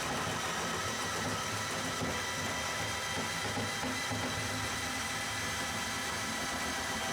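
A drain cleaning machine runs its cable in a clogged tub drain, giving a steady mechanical motor drone with a gritty rattling texture that holds unchanged throughout, with no voices.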